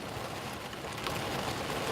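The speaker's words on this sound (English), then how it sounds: "it's raining out there" Steady rain falls outside a parked car, a dense, even hiss of drops that swells slightly louder in the second half, with no voices.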